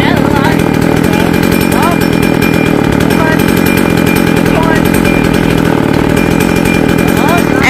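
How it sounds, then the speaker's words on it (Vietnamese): A small chainsaw with a short bar strains against the trunk of a large eucalyptus tree, its engine droning loud and continuous right up close the whole time. "Do cái máy cưa này lam ngắn và máy nhỏ nó công suất yếu nên máy cưa cưa không nổi."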